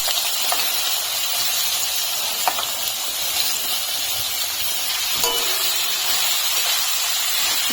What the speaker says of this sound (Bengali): আমি কড়াতে সর্ষের তেল গরম করে নিয়েছি এখন ফোড়নে দেবো একটু শুকনো লঙ্কা আর কালো জিরে